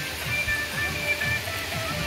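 A mountain stream, Pati Khani Khola in Nepal, pours over rocks with a steady rushing wash of water that stays constant and fairly close, with no voices over it.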